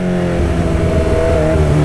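Honda CB1000 motorcycle engine revs loudly and steadily up close while downshifting, with a sustained growling drone that climbs slightly in pitch and carries on without any voices.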